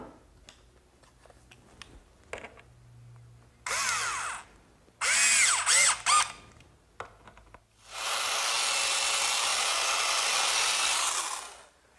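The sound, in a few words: screws being driven to fasten cleats to rails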